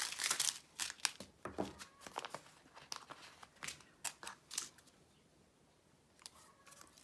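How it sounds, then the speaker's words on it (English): A package being cut open for a Diamond Art Club limited edition kit, with sharp crinkling, snipping and tearing of plastic and paper in quick irregular bursts, close and fairly loud, easing off toward the end. "Sticker, lid, cut it open."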